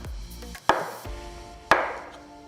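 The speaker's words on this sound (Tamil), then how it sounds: "அடுத்து ஒரு வாழைப்பழத்தை நறுக்க போகிறேன்." Two sharp knife chops cut a banana on a cutting board about a second apart, close and distinct, with quiet handling sounds in between.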